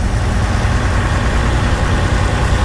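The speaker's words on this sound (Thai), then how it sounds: "เสียงเทอร์โบยังกะ กระบะซิ่ง เนี่ย" A bus engine with a turbo drones steadily and loudly up close, a continuous low rumble with no pauses or voices.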